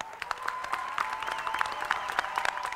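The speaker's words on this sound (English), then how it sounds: "let's just give them a round of applause" Audience applause for William and Carol Stewart at a concert, a steady, dense patter of many hands clapping throughout, fairly even in loudness with no voices on top.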